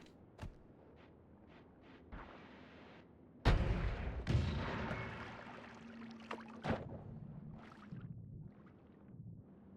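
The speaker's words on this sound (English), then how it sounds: "Stop shooting the starter wand?" Starter wand spells firing in the game Noita: a sharp blast followed by a run of crackling, fizzing shots and scattered popping bursts among quieter game sounds, with no talking.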